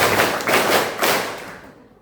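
A school assembly group at SMAN 1 Kota Serang performs the fifth clap pattern, several dense bursts of many hands clapping in unison, close and loud, fading at the end.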